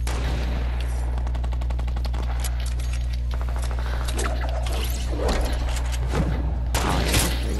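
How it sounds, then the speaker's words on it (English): Fortnite gunfire crackles in rapid bursts of automatic fire, with single louder shots and booms scattered over a droning game background. "someone just got sniped. Heard that."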